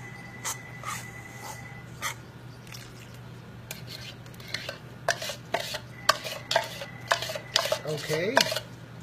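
A spoon stirs sugar and coconut milk in a pot, giving quiet, intermittent scraping clinks that grow busier and louder toward the end over a low steady hum.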